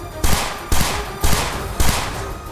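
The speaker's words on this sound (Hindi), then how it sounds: "उन्होंने पहले गोलियां बरसाई।" Four loud bursts of gunfire fire in quick volleys at a steady pace, each one cracking sharply before trailing off into a short rumble.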